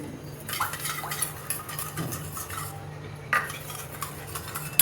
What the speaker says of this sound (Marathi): थोडंसं त्याला असं ढवळायचं आपोआप ते लगेच पाण्यात मिक्स होऊन जातं